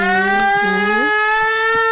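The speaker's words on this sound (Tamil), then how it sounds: "என்னடா அது கிளம்பும் போது சங்கு சத்தம்?" A shrill, siren-like conch blast sounds as a vehicle sets off, holding a loud steady wailing tone with a brief pitch dip and rise in the middle, alone and close.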